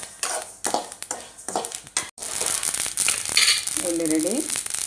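Sesame seeds dry-roasting in a pan for Tamil idli podi spice powder, a crackling, popping sizzle with occasional scrapes of a spoon, close and uneven, with a voice briefly heard over it.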